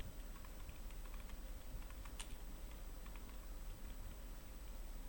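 Keystrokes on a computer keyboard while entering HTML table code: faint, rapid, irregular clicks, with one sharper tap near the middle, over a steady background hiss and no speech.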